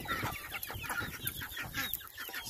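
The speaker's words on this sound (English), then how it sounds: "So our chickens, we actually feed them" Chickens cluck repeatedly at close range during a morning feeding of fermented food, with busy overlapping fowl calls filling the whole stretch and no talking.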